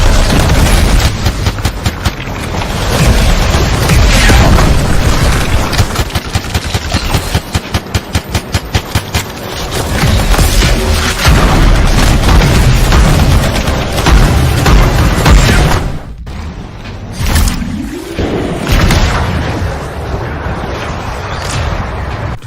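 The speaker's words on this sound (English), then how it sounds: "The explosion from the Devastator, on point, sounds powerful." Heavy explosions and rapid gunfire from the video game Anthem, including the Devastator's blasts, play as a loud, dense, continuous barrage of booms and bursts with brief dips between volleys and no talking.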